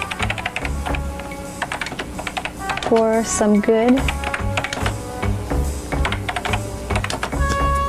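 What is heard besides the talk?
typing on a computer keyboard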